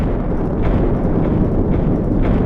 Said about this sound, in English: everywhere I'm right-clicking, I am spawning explosions